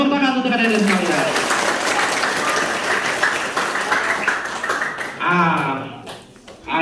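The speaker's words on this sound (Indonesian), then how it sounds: "Tepuk tangan untuk adik-adik sekalian." A crowd of junior high school students bursts into loud, sustained applause that fades after a few seconds, with talking before and after.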